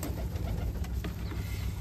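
Racer and tumbler pigeons coo softly on a pigeon farm, low murmuring calls over a dense, noisy background with no talking.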